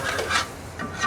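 Crab fry being stirred in a pan, a short dry scraping rasp that rises twice in quick strokes, close and moderately loud with no talk over it.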